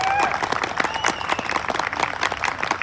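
Audience applause and cheering at a rodeo tournament held in an arena, a steady wash of clapping from a large crowd, with faint voices and whistles mixed in.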